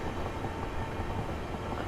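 A class 375 electric multiple unit running towards London Victoria in Train Simulator, giving a steady rolling rumble of motor and wheels that holds at an even level throughout with no talk.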